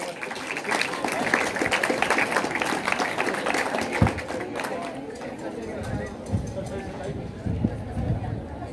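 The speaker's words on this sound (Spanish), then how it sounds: "Ahora tenemos las palabras de nuestro alcalde de Chilete, Noé Candayán, que lo recibimos con un fuerte aplauso." A crowd at the opening of the school year at Colegio Gran Guzmango Cápac in Chilete claps to welcome Mayor Noé Candayán, the applause fading after a few seconds into a murmur of chatter and voices.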